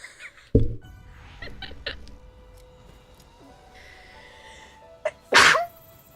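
A sharp, loud sneeze bursts out near the end, preceded by quiet room sounds and a few faint high squeaks and clicks.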